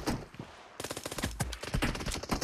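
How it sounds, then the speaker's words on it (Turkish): Automatic gunfire in the PUBG Mobile video game, rapid bursts of shots crackling in quick succession, loud and close, continuing nearly throughout with no talking. "Taramalı silah ya."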